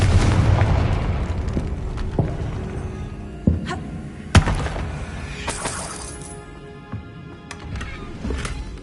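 Confringo blasting-spell explosions in the Hogwarts Legacy video game, with several sharp booms and impacts over a rumbling, dense game soundscape, loud and close with no talk.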